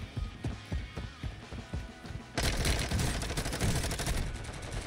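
Gunfire on Ashika Island in Call of Duty, starting as sparse separate shots and switching abruptly midway to dense, loud, continuous automatic fire.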